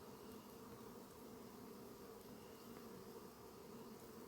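A dense, continuous hum of many honeybees flying around hives at an apiary at night, steady and even throughout with no voices.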